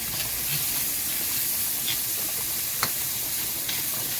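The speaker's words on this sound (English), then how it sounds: "a little bit of garlic. So we'll let that go for another minute. I'm going to mix it in with the onions." Garlic and onions fry in a pan for a UK-style bangers and mash dish, giving a steady, close sizzling hiss with occasional faint pops and crackles and no talking.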